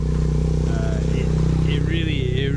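A steady motorcycle engine drone runs loud and close beneath people talking as motorbikes pass in Laos, with faint rising whines near the end.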